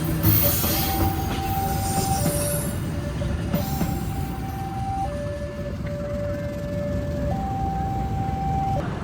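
Train at night in Indonesia, a CC 203 locomotive hauling a disabled KRL electric train from Probolinggo toward Madiun; a loud, continuous rumble of rolling wheels with sustained high metallic squeals and tonal whines throughout.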